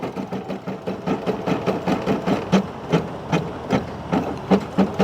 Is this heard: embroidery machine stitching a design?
yes